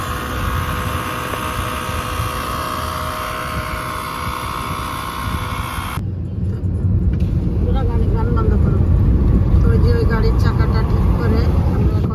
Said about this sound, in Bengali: গাড়িটা পিছনে আসছে